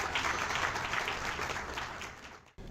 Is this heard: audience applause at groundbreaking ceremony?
yes